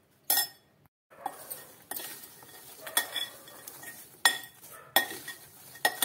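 A spoon stirs masala into crisp potato lachha namkeen, a fasting-style snack, making scraping, rustling and metallic clinks. The sound comes in several separate bursts with short pauses between them, and it is close and fairly loud.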